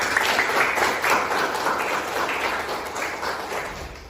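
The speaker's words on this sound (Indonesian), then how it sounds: "Mari kita beri tepuk tangan." A class applauds its presenters in a steady wash of many hands clapping that tapers off slightly at the end.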